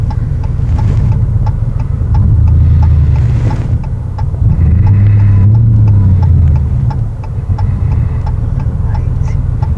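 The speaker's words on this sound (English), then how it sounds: "This is the actual engine that's that loud." Loud car engine rumbling at idle, then revving up twice in deep swells before settling back, with a steady ticking over the drone.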